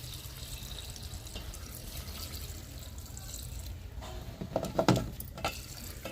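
Water pours into a pot of soaked green gram before pressure cooking, a faint patter and trickle rising briefly late in the clip over steady background noise.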